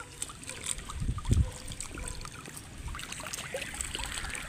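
Feet dangling in water stir it into soft splashes and trickles, with one fuller slosh just after the first second, then quiet lapping over faint background.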